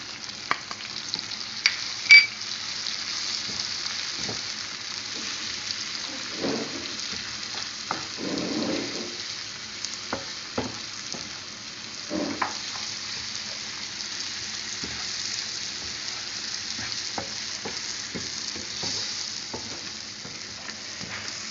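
Bhindi bhujia with tomatoes fries in hot oil with a continuous, even sizzle, and occasional stirs and knocks against the pan stand out over the hiss.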